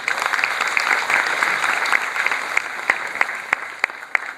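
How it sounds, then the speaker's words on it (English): Audience applause welcoming the participating schools at an inter-school PowerPoint presentation competition, steady and dense at first, then thinning to scattered individual claps near the end. "Let us welcome all the participating schools with a huge round of applause."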